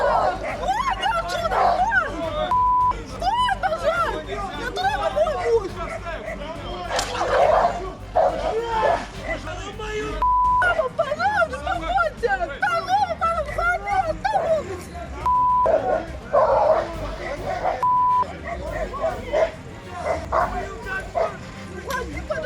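Dogs bark, yip and whimper repeatedly during a tense street confrontation in Russia, loud and close amid shouting and crowd babble, with several short tonal beeps breaking in.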